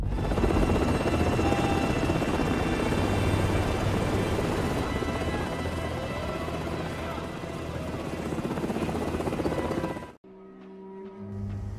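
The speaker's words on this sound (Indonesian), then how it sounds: "Setelah beberapa saat helikopternya pergi" Helicopter over a conflict zone, its loud, steady rotor and engine roar filling about ten seconds up close before cutting off abruptly into a much quieter background.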